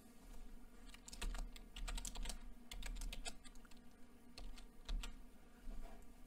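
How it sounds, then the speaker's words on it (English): Fingers tap out a new password on a computer keyboard in quick, irregular bursts of close, light keystrokes with short pauses between them, alone in a quiet room. "So I would click that, type in a new password."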